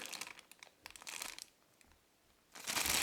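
A plastic bag being torn open while unboxing a Dell SE2719HR monitor cable packet, bursts of close crinkling and rustling, a quiet pause, then a louder crumpling rush at the end.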